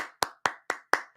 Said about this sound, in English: I got to clap it up